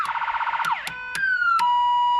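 Electronic siren from an old big block van, sweeping rapidly through warbling tones, then sliding into sustained wailing pitches broken by sharp clicks as modes switch; loud and close, with no voices.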